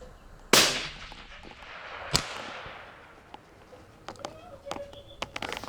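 A scoped rifle fires at a 400 target outdoors, giving one sharp, loud crack that rings off. A second strong report follows about a second and a half later, then faint scattered clicks and small sounds.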